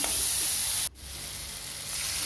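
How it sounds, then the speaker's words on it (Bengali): Fried potatoes being stirred and sautéed in a pan for a kachki fish, potato and eggplant chorchori, giving a loud, steady sizzle that dips sharply for a moment, then carries on. "আলু দিয়ে ভালো করে নাড়াচাড়া করে আর একটু কষে নিলাম"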